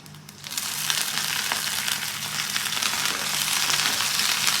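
Dried red chillies, crushed garlic and curry leaves sizzle steadily in hot oil for a brinjal tempering, a dense continuous crackle that swells after a soft start and holds loud and close throughout.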